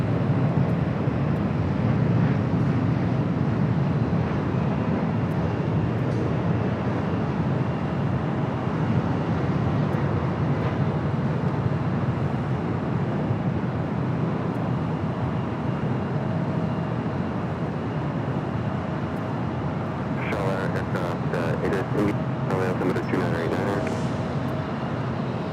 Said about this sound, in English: Norris taking off there on the south side to 25 right.